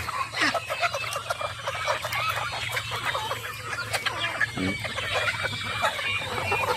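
Pet chickens and turkeys cluck steadily throughout at feeding time, with overlapping calls from several birds, some close and some farther off, over a constant farmyard background.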